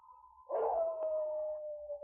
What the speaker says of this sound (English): could hear a wolf or a dog howling as they started through the forest